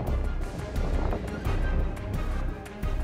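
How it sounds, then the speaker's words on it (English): Strong outdoor wind buffets the microphone at an abandoned rocket facility, a steady low roaring rumble with gusting surges and no voices. "As you can tell, it's pretty windy today."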